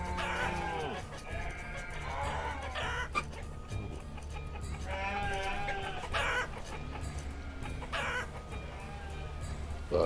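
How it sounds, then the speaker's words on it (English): Chickens cluck and roosters crow repeatedly in a village in the city-building video game Banished, a busy barnyard chorus over a low steady hum with no voices. "Yeah, chickens everywhere."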